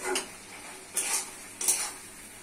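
Okra, potato and fish being stir-fried in a pan, with three short bursts of stirring and scraping over a faint sizzle, no talking.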